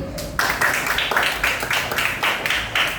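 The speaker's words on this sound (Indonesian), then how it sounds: "semua berikan aplaus Pak Chelsea" Children in a classroom clap together for a visiting student teacher, a dense burst of rhythmic applause that swells after a brief pause and carries on steadily, close and loud.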